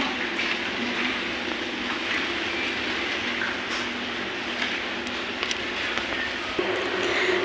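A dense, even hiss of rain falls steadily throughout, with occasional faint drips and a low rumble underneath, and no one speaking.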